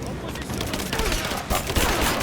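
Rapid gunfire in the video game Rise of the Tomb Raider, a loud, dense burst of shots rattling continuously for a couple of seconds.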